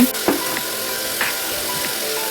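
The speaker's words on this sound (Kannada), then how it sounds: "ನಂತರ ಈರುಳ್ಳಿಯನ್ನು ಫ್ರೈ ಮಾಡುವ. ನಂತರ ಟೊಮೆಟೊವನ್ನು ಹಾಕುವ, ಫ್ರೈ ಮಾಡುವ" Onion and tomato fry in oil with curry leaves in a clay pot for Kerala-style sardine curry, a soft, close sizzle with a few light stirring clicks and scrapes over a steady frying hiss, no speech.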